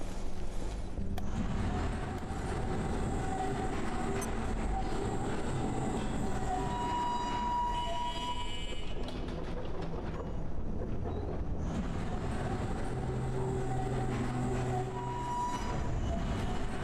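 Train or tram in the video game Abiotic Factor, a steady mechanical rumble with rail-like clatter and tonal whines, running continuously with a brief lull midway before resuming.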